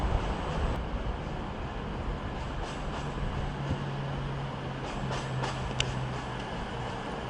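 Class 220 unit 220012 arrives at Manchester Piccadilly with a low, steady rumble and faint hum. Scattered light clicks and rail noises come at a distance and stay fairly quiet throughout.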